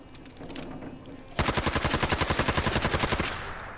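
Rapid automatic gunfire from a low-recoil gun in Fallout 4, starting abruptly after a quiet stretch and running as a steady, fast burst of evenly spaced loud shots for about two seconds before easing off.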